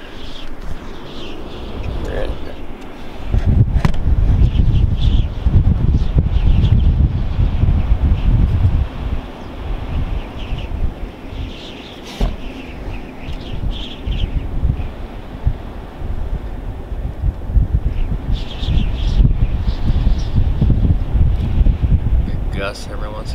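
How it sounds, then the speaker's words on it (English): Blizzard wind gusting in South Dakota, a loud, rumbling roar that surges and eases in waves through an open window, with brief rustling and faint bird chirps in the mix. "Gusts every once in a while."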